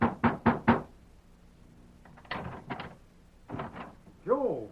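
A fist banging on a door: a quick run of three or four heavy knocks, then two more clusters after a pause, close and loud, with a shouted voice at the very end.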